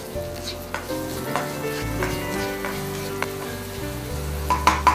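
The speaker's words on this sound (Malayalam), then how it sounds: "ഇനി സവാളയും കൂടി ഇതുപോലെ ഇതിനോടൊപ്പം കിടന്നൊന്ന് വഴണ്ട് കളറൊക്കെ മാറാൻ തുടങ്ങണം." Chopped onion sautés in a pan for a stuffed omelette, giving a steady close sizzle with a few light clinks of stirring, and no talk over it.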